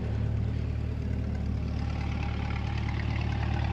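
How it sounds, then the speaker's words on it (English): A Chevrolet Corvette with performance exhaust idles in a steady low rumble, a deep even engine pulse throughout, moderately quiet and alone. "he's changing the modes for the exhaust sound"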